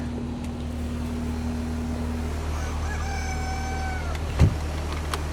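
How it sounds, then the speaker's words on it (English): A young rooster crows once, thin and somewhat distant, over a steady background hum, with a faint click shortly after. "That's my young rooster."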